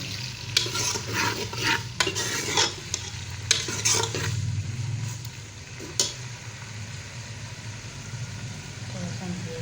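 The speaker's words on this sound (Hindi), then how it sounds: "उसके बाद हम इसमें जो प्याज हमने काटी थी उसको ऐड करेंगे और आज हमने प्याज जो है वो लाइट ब्राउन करेंगे।" Chopped onions sizzle and fry in oil in a pot while being stirred, with clinks of a spoon against the metal over a steady crackle as meat and potatoes (aloo gosht) are cooked; a voice speaks faintly underneath.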